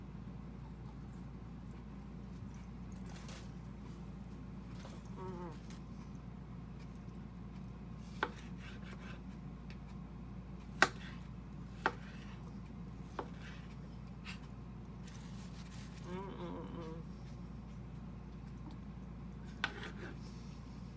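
A knife cuts through beefsteak tomatoes with hard middles, giving a few faint, sparse taps and slices on a board over a low steady hum, with no talking.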